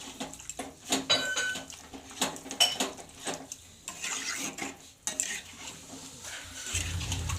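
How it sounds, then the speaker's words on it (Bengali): Boiled potatoes are stirred in a pot with warm water and oil, a spoon clanking and scraping against the metal in uneven strokes, followed by a low clatter as a lid goes on. "এবার এইগুলো দিয়ে একটু নাড়া দিয়ে ঢেকে দেবো"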